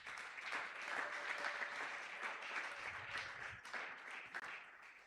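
A church congregation at a Sunday praise and thanksgiving service applauding loudly and steadily for several seconds, a dense wash of clapping that swells and holds without a break.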